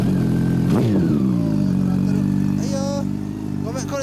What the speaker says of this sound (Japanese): あんならエンジン音聞かせて